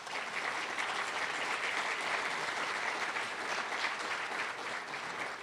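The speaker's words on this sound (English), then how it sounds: "give one more round of applause for Dr. Altig." Steady applause from a room full of people, sustained and even throughout with no break or talking.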